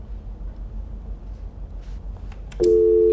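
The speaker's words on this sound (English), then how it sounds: "I guess we lost Kevin in Milwaukee" A telephone line drops into a steady, loud, sustained tone as a radio call-in caller is lost, cutting in abruptly after a stretch of low line hiss.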